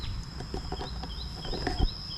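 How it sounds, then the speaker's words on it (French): Chickens cluck softly at a distance while wandering near Angkor Wat in Cambodia, the faint calls set against outdoor ambience and a steady insect-like whine. "T'as les petites poules qui se baladent,"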